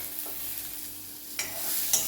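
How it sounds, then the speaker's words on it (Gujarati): A spoon stirs boiled legumes with turmeric, red chilli and coriander-cumin powder in a hot pan, a faint steady sizzle broken by two brief scraping strokes. "એક વખત એને મિક્સ કરી લેવાનું"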